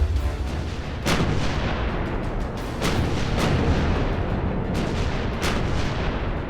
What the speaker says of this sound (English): At 5:27, the bombardment began.